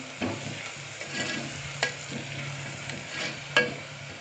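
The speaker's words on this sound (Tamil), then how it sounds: "இப்போ இது நல்லா கலந்துட்டுலாம்" A spoon stirs an onion and tomato paste frying in a pan, with steady sizzling under a few sharp metallic scrapes and clinks against the pan, close and fairly loud.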